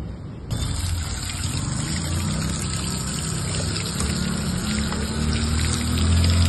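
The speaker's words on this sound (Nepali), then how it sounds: "अब यसलाई पानीमा लगेर धोएर लिएर आउने।" A petrol pump nozzle part is washed in water, making a steady, fairly loud rush of running water that flows without a break from just after the start to the end.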